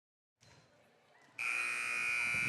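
A loud electronic buzzer sounds in Hawley Gymnasium at a high school basketball game between Ludington and Fremont, cutting in sharply and holding a steady, piercing tone over faint crowd murmur.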